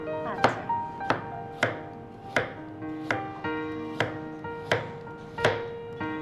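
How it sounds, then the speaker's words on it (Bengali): A knife slices a vegetable thinly at an angle on a cutting board, giving about ten sharp, evenly spaced chops close up, with a low steady hum underneath. "এখন আমরা একটু অ্যাঙ্গেল সাইজ করে পাতলা আমরা স্লাইস করে নিচ্ছি।"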